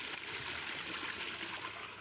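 Water flows steadily into a channel at the edge of a paddy field awaiting rice planting, a soft continuous gurgling stream heard fairly faint and unbroken, with no voices.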